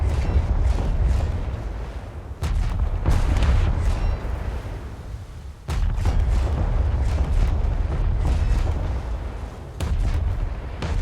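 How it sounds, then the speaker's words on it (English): Naval guns fire armour-piercing rounds in the War Thunder video game, producing heavy, booming blasts with sharp onsets, one near the start and a second midway, over a constant loud rumbling background. "You're firing AP rounds, right?"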